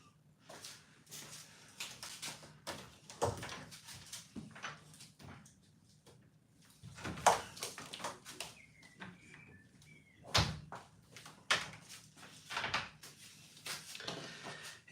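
A soundproofed door being opened in a home pub room produces a scattered series of clunks, knocks and rattles, some sharp and close, spread across a quiet background.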